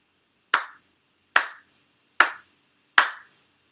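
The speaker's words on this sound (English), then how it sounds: "4 sincere claps along with the head officiant" Four sharp hand claps ring out alone at an even, unhurried pace during a Shinto ceremony, each crisp strike followed by a short room decay and silence in between.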